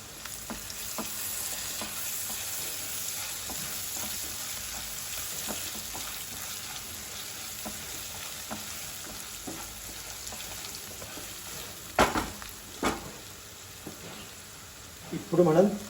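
Ginger garlic paste frying in a pan, a low continuous sizzle with light periodic stirring taps and a couple of louder knocks toward the end.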